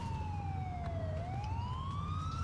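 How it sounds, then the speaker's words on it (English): An ambulance siren in the video game GTA IV wails in a slow, steady sweep, falling and then rising again, at moderate level over a low, continuous rumble of traffic or engine noise. "oh, ambulance is here"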